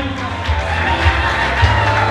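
Audience applause at a Moshi certificate ceremony for Faraja Seminary graduates, a steady, dense roar of clapping mixed with crowd cheering, continuous and fairly loud for about two seconds.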